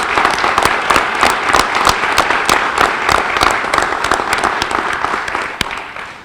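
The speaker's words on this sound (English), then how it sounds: "another round of applause for the promotion of Sergeant Martinez and our recipients for the awards" Applause from an audience at a police promotions and awards ceremony, steady dense clapping with a few sharper individual claps standing out, filling the room loudly throughout.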